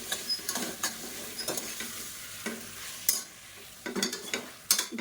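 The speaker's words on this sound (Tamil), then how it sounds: "இப்போ மட்டன் நல்லா வதக்கியாச்சு." Mutton pieces sautéed and stirred in a pan for a kuzhambu, giving soft frying sizzle with repeated scraping stir strokes and clatter at irregular intervals, close and moderately quiet, with no talking.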